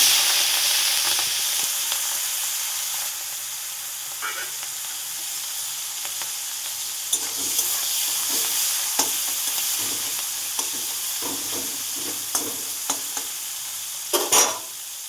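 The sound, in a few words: fish frying in oil in a wok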